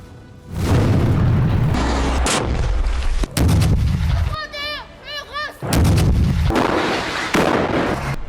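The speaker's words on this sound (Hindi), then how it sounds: "इजराइल ताबड़तोड़ गोले दाग रहा है।" Artillery shells fired by Israel on Gaza boom in a series of loud, heavy blasts with rumbling tails, separated by brief pauses, with an electronic sweeping tone between the bursts.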